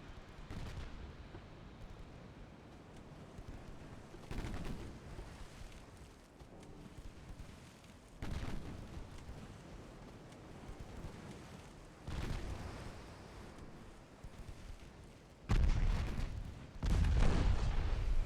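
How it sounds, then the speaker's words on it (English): In a naval war strategy game, torpedo detonations and gunfire roll out as a run of deep, heavy booms. Several loud blasts sit over a constant low rumble, and the last two strike hardest. "Torpedo detonations."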